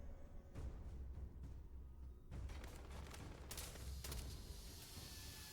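A gas canister explodes amid a firefight with pirates in Starfield, faint distant booms and gunfire bursts at intervals over a low, continuous background rumble.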